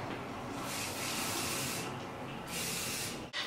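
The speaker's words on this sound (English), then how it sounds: "So I just spray that lightly" A steady hairspray hisses for over three seconds, rising and falling in intensity, with a brief break near the end.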